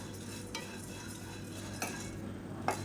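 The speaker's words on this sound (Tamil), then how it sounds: "இதையும் சேர்த்து நல்லா வறுத்துக்கலாம் அந்த பார்லி அரிசியோட வாசனை நல்லா வரும்" Barley dry-roasting in a pan with black pepper and cumin, a soft continuous rustle of stirring broken by three brief scraping clinks of a spoon against the pan.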